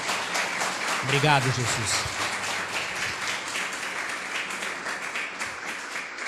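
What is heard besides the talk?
congregation applause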